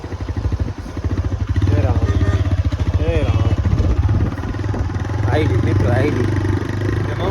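A sport motorcycle rumbles steadily at close range as it is ridden along a village road, its engine drone running underneath continuous talk.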